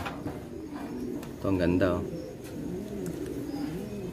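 Young racing pigeons coo in a loft, soft repeated throaty calls with a louder burst in the middle, while someone talks over them nearby.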